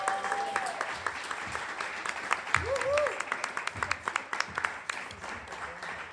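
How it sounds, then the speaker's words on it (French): Applause from an audience at a queer literary reading event, a diffuse bed of clapping with scattered sharper claps rising toward the end, with voices and murmuring mixed in throughout. "on peut applaudir Mathieu pour ce très beau texte"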